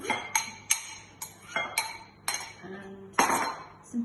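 Chopped red onion and garlic being mixed in a bowl, a utensil striking the bowl in a run of bright clinks, roughly eight evenly spaced knocks at close range.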